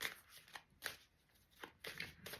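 Tarot and oracle cards are shuffled by hand in soft, quiet riffling bursts that come in an uneven rhythm, close and alone with no talk.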